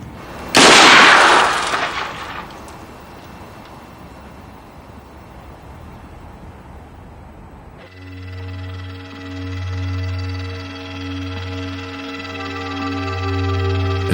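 A remote-controlled bomb disposal robot fires with one loud, sharp blast up close, followed by a decaying rumble and then a steady mechanical hum.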